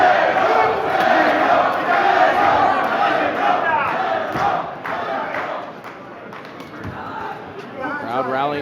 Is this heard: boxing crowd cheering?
yes